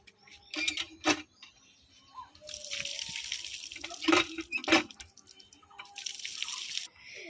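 Water runs into an empty Sprite bottle, close gurgling and splashing in uneven bursts with short drips between.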